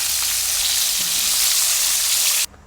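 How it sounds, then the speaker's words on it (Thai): Thai fermented fish (pla som) deep-fries in hot oil, a loud, dense, continuous sizzle heard up close that cuts off abruptly at the end. "ดี๋ยวเราจะทอดจนหมดเลยนะคะ"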